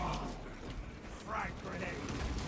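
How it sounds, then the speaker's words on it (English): A weapon magazine is swapped in a video game, giving a short run of mechanical clicks and ratcheting sounds over a dense bed of game noise. "Changing magazine."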